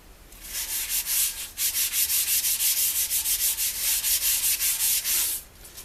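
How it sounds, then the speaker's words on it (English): Finish is rubbed into a turned sycamore bowl with steady, rhythmic strokes, each a soft, close scratchy swish repeating quickly and evenly, with no talking. "what we do is rub it into the piece."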